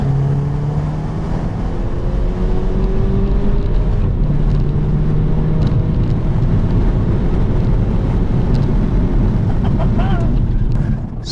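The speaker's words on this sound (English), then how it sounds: "with this being the 2-litre turbo engine, it does sound good" A 2016 Mercedes A250 4MATIC's 2-litre turbo four-cylinder engine roars steadily under load, its pitch rising as it accelerates, heard from inside the cabin with road and wind noise throughout.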